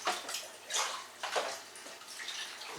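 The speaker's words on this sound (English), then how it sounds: "So we'll want to water this well." Water poured over a freshly repotted Renanthera orchid, a steady splashing and trickling wash with a few stronger surges, close by and with no talk.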